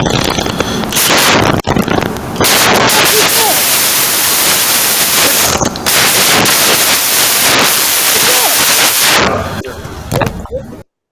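Rapid, dense gunfire like a machine gun, carried loud and distorted over a guest's live-stream microphone, running almost without pause with a few brief gaps.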